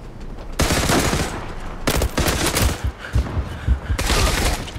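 Bursts of automatic gunfire from the Turkish online shooter game Zula, three loud dense fusillades of rapid shots separated by brief gaps, close and sharp with no talking.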